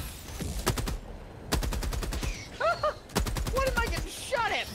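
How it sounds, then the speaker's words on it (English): Bursts of rapid automatic gunfire in Helldivers 2, several loud volleys separated by short pauses, with a man's strained vocal sounds between them. "What am I getting shot at for?"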